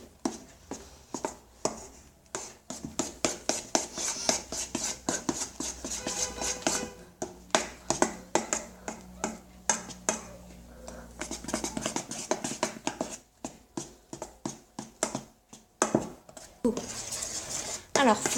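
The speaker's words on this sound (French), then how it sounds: "il faut bien mélanger jusqu'à temps que vous ne voyez plus les jaunes d'œufs" Egg whites and yolks being mixed in a dish for a rhubarb tart, a steady run of quick scraping, clinking strokes of a utensil against the dish, close and continuous, with faint speech underneath.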